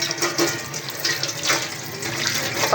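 Water poured or running while making gur ki tikki in a home kitchen, a soft continuous splashing trickle with no talking.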